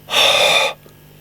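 A person breathes out once onto the input pins of a Fender Hot Rod DeVille amplifier with a crackling fault, a close, loud breathy rush lasting under a second, followed by quiet hum.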